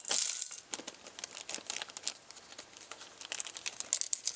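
Small electronic kit parts for a DCSN3 eurorack pattern generator tumble into a bin, making a dense run of light plastic-and-metal rattles and clicks, loudest at first and then trailing off in scattered close taps.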